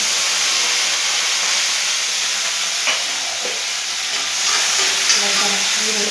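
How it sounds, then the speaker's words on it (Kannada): Chopped onions dropped into hot oil with curry leaves for a bottle gourd palya sizzle steadily in a pan, a continuous bright frying hiss with a few soft stirring clicks, close and alone without talk. "ಈಗ ಈರುಳ್ಳಿ ಹಾಕ್ತಾಯಿದ್ದೀನಿ."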